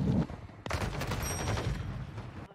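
Video game gunfire during a live stream: a rapid burst of shots begins after a short pause and keeps rattling at moderate volume, with a brief muffled sound at the start.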